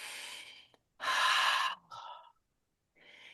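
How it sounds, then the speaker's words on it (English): A person doing a loud breathing exercise: heavy breaths drawn and pushed out through the mouth, with the longest and loudest at the centre and shorter, softer breaths before and after, separated by brief silences. "Anytime you do a loud exhale like this, so inhale"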